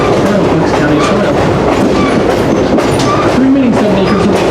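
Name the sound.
New Hope and Ivyland Railroad train riding on tracks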